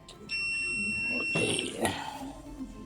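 A Sharp automatic washing machine with an E2 error gives a sharp electronic beep, a steady high tone lasting over a second, close and clear over a faint background hum during repair testing.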